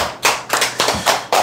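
Applause comes in five loud, rhythmic bursts, close by and evenly spaced, like a group clapping together.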